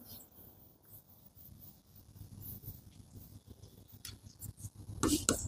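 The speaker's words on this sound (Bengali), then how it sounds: "লিখে দেবো এটা" Writing on a board during a nursing exam prep class, a soft scratchy scrawl in short strokes that runs quietly throughout, growing a little louder with a brighter scrape near the end.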